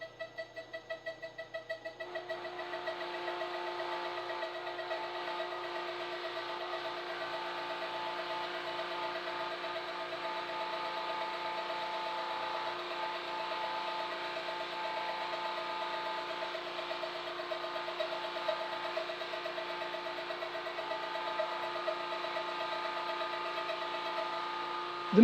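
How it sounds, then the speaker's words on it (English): A CNC router mills an ash table leg blank with a steady, droning mechanical whine that holds constant tones. It starts with a brief rhythmic pulse and then runs evenly and moderately loud to the end, with no voices. "The machine starts and finishes with a shoulder cut, so you will end up with a square section at each end of the blank."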